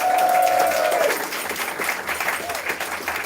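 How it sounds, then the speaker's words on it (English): Audience applause for a man named Brad at a business book awards shortlist reveal, a steady wash of clapping from a crowd, loud at first and tapering slightly, with a brief tone and faint voices underneath. "if you could all just give him a huge round of applause."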